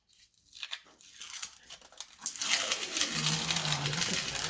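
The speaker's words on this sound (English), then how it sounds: "the next thing is to peel off the funny tape stuff and get the sink in" Protective tape is peeled off a new farmhouse sink during a barn renovation. It starts as faint crinkles and small tears, then swells into a long, loud ripping and crackling as the tape comes away. No one talks.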